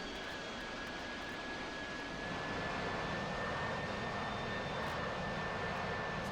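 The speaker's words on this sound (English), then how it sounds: "The engine noise in this game is ridiculously loud." An aircraft engine drones in a flight combat video game, a loud, steady roar with a thin high whine running through it.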